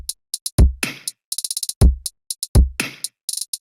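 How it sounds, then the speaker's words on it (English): Basic drum loop built from trash bag samples: punchy kick-like thumps about every 1.2 seconds, crisp crinkly hits between them and quick bursts of bright hat-like ticks, dry and loud in a steady repeating pattern. "So I made a pretty basic drum loop."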